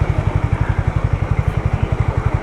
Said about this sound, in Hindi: डाल दिया मैंने थर्ड गियर और नो एक्सीलरेटर इनपुट, और बाइक आराम से क्रूज कर रही है